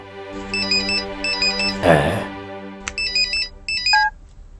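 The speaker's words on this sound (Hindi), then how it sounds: "वेणु, बार बार क्यों फोन कर रहे हो?" A phone ringtone in a South Indian film scene chimes in repeated bursts of bright electronic tones, loud and close, with a short rustling noise between rings.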